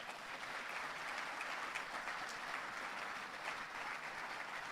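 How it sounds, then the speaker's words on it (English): A crowd at a banking hall of fame ceremony applauds its inductees, a dense, steady wash of clapping heard from a distance at fairly low volume, with no voices. "please join me in one more round of applause"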